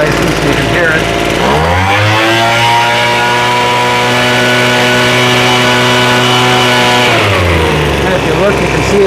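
A Craftsman leaf blower with a freshly rebuilt carburetor starts up and runs steadily at a loud, even engine drone for several seconds, then the note drops away near the end.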